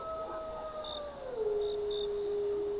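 A lone, drawn-out canine howl at night near an empty, dimly lit bus stop, a long wavering tone that sinks and then holds steady, distant and fairly faint over a steady background hum; no barking is clearly distinguishable.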